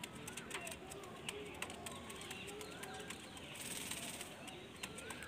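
Male Fulshira pigeons from a Jiria blood line in a loft, with soft cooing and wing flutters amid a steady background of chatter and clatter, faint bird calls scattered throughout.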